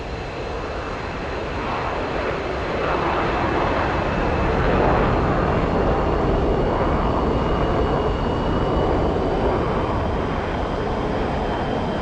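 An aircraft passes during an air show, a broad continuous engine roar that swells slightly mid-clip and stays steady and loud throughout, with no talk.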